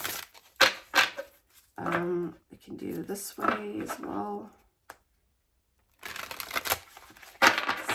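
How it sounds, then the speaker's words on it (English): Cards from an oracle deck are shuffled in quick riffling and snapping bursts, close and crisp, broken by pauses while someone talks between the shuffles. "I get to show my shuffling."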